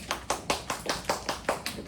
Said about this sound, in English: Clap it up for Kiana.